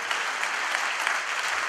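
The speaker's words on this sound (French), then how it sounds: "On applaudit très fort" Steady, dense applause from an audience, continuous clapping at an even level throughout with no pauses.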